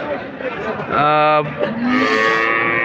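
A single loud, close moo from a dairy cow at the Notunhat cattle market in Joypurhat, lasting about half a second amid faint market background noise.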